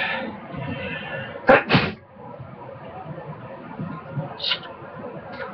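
An enemy in the Bionicle (2015) game sneezes once, a sharp double burst that stands out loud and close over a busy, noisy game soundscape.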